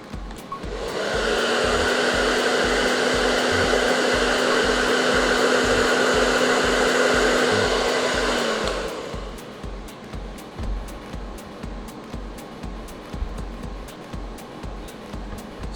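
A heat gun blows hot air over decals on a Wicked Candy gasser car's paint, a loud steady whooshing roar for about eight seconds before it cuts off, leaving faint background clatter.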